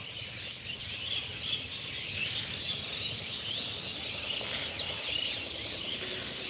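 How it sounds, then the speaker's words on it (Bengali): Many kinds of birds chirp and twitter together in a dense, steady chorus in the evening, with no single call standing out. "ডাক কিচমিচ কিচমিচ করে কত রকমের পাখি এখানে থাকে"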